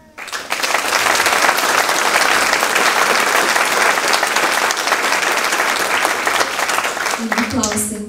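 Dense, loud audience applause fills a folk dance group's 35th anniversary concert, starting abruptly and holding steady for about seven seconds before thinning at the end.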